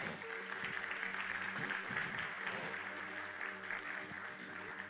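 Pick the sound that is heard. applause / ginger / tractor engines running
applause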